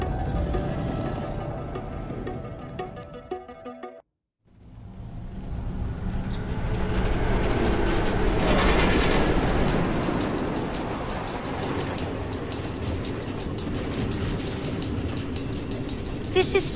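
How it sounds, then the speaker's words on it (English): An automated train clatters steadily along tracks through the Nether in Minecraft: Story Mode. The rumble breaks off briefly, then returns louder and keeps rolling in a continuous rhythmic clatter. "Automated train tracks running all through the Nether, connecting all the different order members?"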